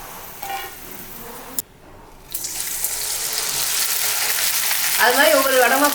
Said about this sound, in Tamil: அது மாதிரி ஒவ்வொரு வடமாக போட்டு பொரிச்சு எடுத்துக்கலாங்க